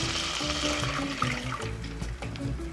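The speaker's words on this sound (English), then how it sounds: "We're gonna add 1 cup of water" Water from a measuring cup streams steadily into a pan of melted butter for churro dough, a continuous close pouring and splashing sound with a faint bubbling texture throughout.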